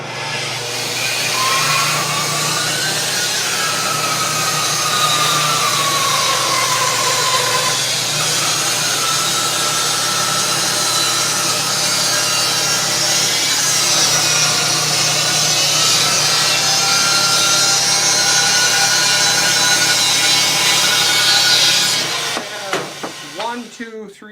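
A power saw cuts the end off a wooden board in a woodshop, a loud steady whine running continuously for over twenty seconds before winding down at the close.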